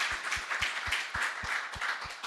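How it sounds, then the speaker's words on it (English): A panel discussion audience gives a short round of applause, faint and somewhat distant, with a sparse, fairly regular patter of claps and low thuds running about two seconds. "Join me in a round of applause saying thank you to our panelists."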